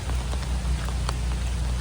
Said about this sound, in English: It's like a steady rain, it's not a drizzle, so I'm not risking it.